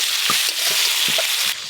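Potatoes and pointed gourd fry in a spiced masala in a pan, a steady loud sizzle with repeated scraping stirs of a spatula throughout.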